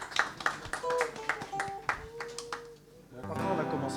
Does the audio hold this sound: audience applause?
yes